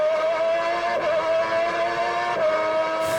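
A Formula One car at Suzuka heard from onboard, its engine a loud, steady high-revving whine that dips briefly at gear changes, with no talk.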